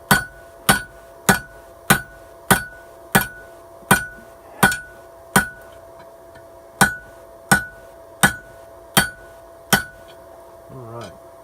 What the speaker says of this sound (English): just planishing at this stage, just knocking it true and square for the next heat